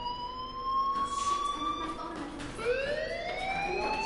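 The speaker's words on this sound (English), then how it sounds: "do you hear that fire alarm?" Wailing electronic fire alarm in the game Life is Strange, a loud siren tone sweeping down then rising again, continuous and fairly close with no talking.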